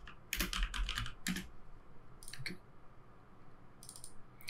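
Short bursts of keystrokes on a computer keyboard type out a folder name, with a few quick clusters of clicks separated by brief pauses, close and fairly quiet.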